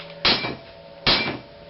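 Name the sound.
hammer striking Land Rover rear spring part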